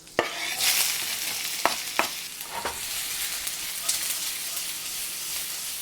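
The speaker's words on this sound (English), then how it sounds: "Okay, so now I'm gonna add a little bit of olive oil and about a tablespoon of butter. Then we're gonna add our onion." Onion frying in olive oil and butter in a pan, a steady bright sizzle with sharp clicks and scrapes of stirring scattered across it.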